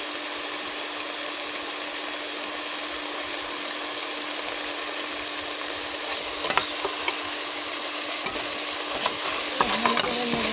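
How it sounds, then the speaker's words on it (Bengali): Spices with chili powder are stirred and fried in a pan for a homestyle jackfruit curry: a steady, bright sizzle throughout, with scraping stirs and clinks of the spoon growing busier toward the end. "ভালো করে নেড়ে দেবো, মশলাগুলো কষিয়ে নেব।"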